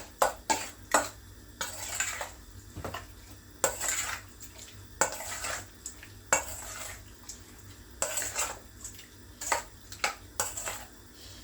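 A curry powder mixture is stirred in a cooking pot with a utensil, making irregular close scraping clatters and knocks against the metal, with no talking.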